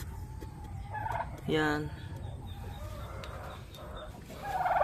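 A fat pet turkey on a small farm gobbles in a loud rattling burst, with fainter bird calls around it; someone says a brief word.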